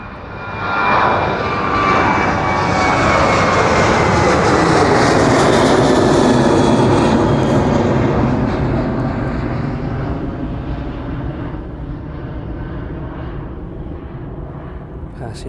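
A Ryanair jet departing for Malaga roars loudly as it climbs away, its engine noise swelling quickly, peaking near the middle and then slowly fading into the distance, with a commentator talking over it.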